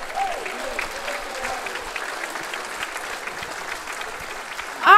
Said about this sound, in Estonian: Teeme aplausi ise endale